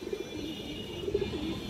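A racing pigeon coos softly in short low murmurs, faint and close, with a quiet background hum.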